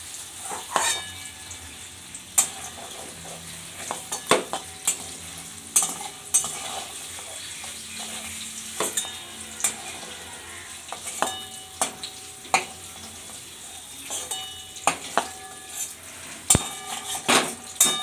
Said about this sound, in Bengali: আমার পনিরটা খুব সুন্দর ভাজা হয়েছে